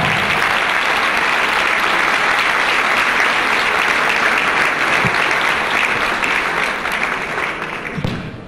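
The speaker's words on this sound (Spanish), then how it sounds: "Ahora sí, aplausos." An audience at an education conference in Mendoza applauds a lecturer; a sustained, full wash of clapping continues steadily and begins to thin out in the last second or so.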